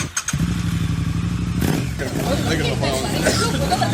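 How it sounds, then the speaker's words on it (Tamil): A motorcycle engine starts with a rapid idling chug, then revs and pulls away, with people talking nearby throughout. "பைக் எடுப்பா, வண்டியில போலாம்."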